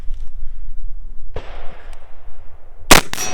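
Rifle shots on a Viking Brutality 2025 competition stage: a sharp crack near the middle with a lingering ring, then a loud doubled blast near the end over low background rumble.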